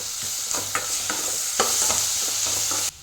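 Onions and green chillies sizzle in hot oil as ginger garlic paste goes in for a pinto bean dish; a steady frying hiss runs throughout, broken by several sharp spoon scrapes and stirs before cutting off abruptly.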